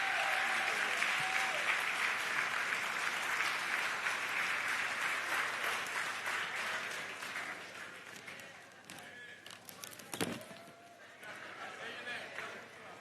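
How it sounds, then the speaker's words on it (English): Sustained audience applause fills the hall as a congresswoman's grandson walks onto the stage, loud and dense at first, then thinning out, with a sharp knock partway through. "give a big round of applause to her grandson"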